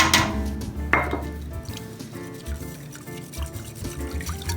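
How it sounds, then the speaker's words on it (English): Goat's milk poured into a soap mixture, a close liquid trickle and splash with a couple of knocks against the container at the start, fairly loud and continuous. "Now we'll go ahead and add our goat's milk"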